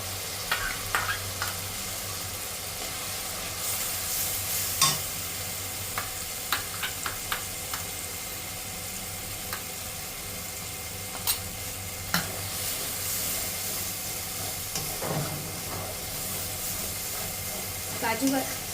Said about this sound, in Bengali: বাটাটা দেওয়ার সঙ্গে সঙ্গে নাড়া অনবরত নাড়তে হবে না হলে কড়ার নিচে লেগে যাবে